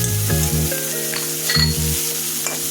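Dried fish (shutki) frying in hot oil, a steady close sizzle with bursts of louder spattering as pieces are stirred, no talking.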